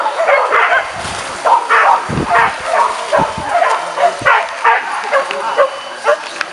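Hunting dogs bark and yip repeatedly in a rough, overlapping rhythm, fairly close and loud, during a hunt in rugged terrain, with brief whimpers mixed in and occasional shouts from people nearby.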